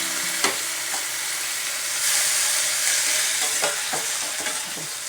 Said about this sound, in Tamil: தக்காளி வந்து நல்லா வதங்கி வரணும்